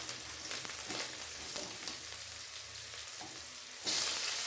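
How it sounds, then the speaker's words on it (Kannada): Chopped onion and dried red chillies fry in hot oil with a steady, crackling sizzle close by, the hiss jumping louder near the end. "ಈರುಳ್ಳಿ ಹಾಗೆ ಒಣಮೆಣಸು ಇವೆಲ್ಲ ಚೆನ್ನಾಗಿ ಎಣ್ಣೆಯಲ್ಲಿ ಫ್ರೈ ಆಗಲಿ"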